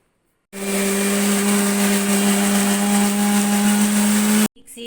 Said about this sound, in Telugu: ముద్ద మిక్సీకి వేసుకునేసి పులుసు చేసేద్దాం